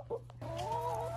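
Chickens clucking nearby, with a brief cluck followed by a drawn-out, warbling call over a steady low hum.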